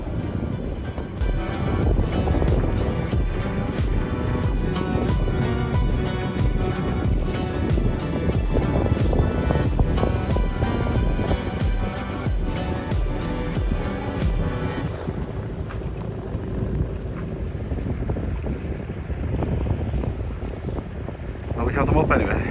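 A sailboat motor sailing in an 11-knot wind, with a steady engine drone, rushing wind and water noise running continuously throughout, close and moderately loud.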